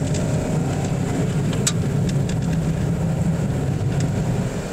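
A 2024 Toyota Wigo engine is wound up hard to overtake, producing a loud, steady droning hum with road and cabin noise from inside the car.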